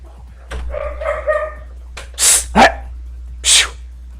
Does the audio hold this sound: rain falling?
no